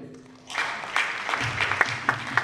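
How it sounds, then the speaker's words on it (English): Crowd applause breaking out for an award winner at a national youth ideathon, building quickly into steady clapping with a few sharper claps standing out. "Let's have a big round of applause for Shalabh"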